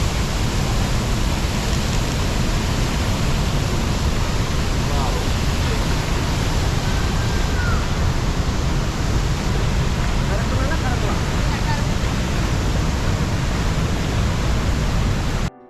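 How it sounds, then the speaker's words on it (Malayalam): Hogenakkal waterfall on the Kaveri river in monsoon season, a strong flow giving a steady, loud, unbroken rushing roar, with faint voices underneath. "ഈ കാണുന്ന വെള്ളച്ചാട്ടം നമ്മൾ മുകളിൽ നിന്ന് നോക്കിയേ"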